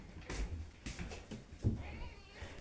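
A kitten meows in a few short, faint calls at breakfast time, spaced apart in a quiet room with a little background noise.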